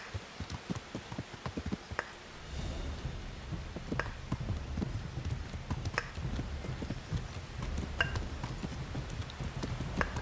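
Hooves of a trotting horse in Kingdom Come: Deliverance beat out a regular clip-clop rhythm at moderate distance, layered over a soft patter of rain on the ground.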